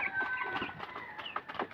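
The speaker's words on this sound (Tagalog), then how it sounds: "Nagpapatuka sa manok." Chickens cluck in quick, close bursts while a woman feeds them in the morning, with an occasional higher call among the busy flock.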